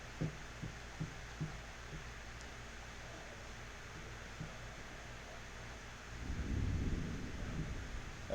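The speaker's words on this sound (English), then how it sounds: "it's thundering outside." Low, distant rumble of thunder during a storm outside, building into a heavier roll near the end over a steady background hiss, with a few soft knocks early on.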